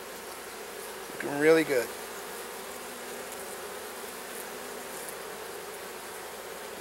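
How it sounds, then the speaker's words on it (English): Honey bees buzz softly and continuously around hive frames heavy with honey, with a brief spoken remark rising briefly above the gentle, steady hum. "These bees have been really calm"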